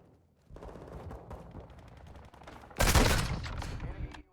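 Gunfire in a war video game: a loud, dense burst of shots erupts near the end after a stretch of busier background game noise, with close, sharp reports continuing to the close.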